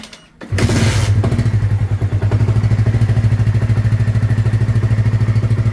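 Honda CB150 motorcycle engine cranks with a brief clatter, then catches and settles into a steady, close, loud idle with an even throbbing rhythm; no talk.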